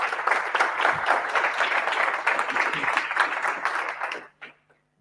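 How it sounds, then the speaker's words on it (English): An audience at a Python meetup talk applauds the next speaker, a dense, fairly loud wash of clapping that holds steady for about four seconds, then cuts off abruptly. "please applause for Nithish"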